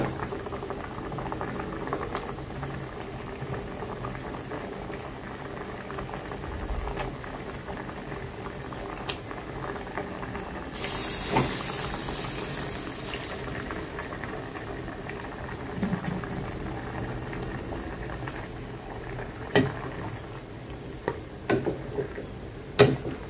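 A pot of vegetable and fish head curry simmers at a steady boil, a continuous soft bubbling hiss with occasional small clinks and pops, close and fairly quiet.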